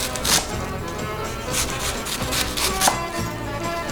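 A knife cuts thin slivers of vegetable on a board for a Macedonian mixed salad. Close, loud, rhythmic chopping strikes repeat through the clip with no one talking.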